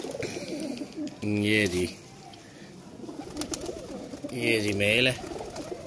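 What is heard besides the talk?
Kasoori pigeons cooing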